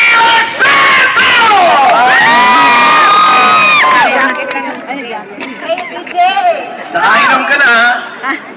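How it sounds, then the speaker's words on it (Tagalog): A large crowd at an evening show in Bahrain cheers and shouts loudly, with shrill whoops and yells rising together, then fading into scattered chatter before a second burst of cheering. "ibigay natin ang mas malakas, doble, triple na sigawan para mas lalo niya pagbutihin"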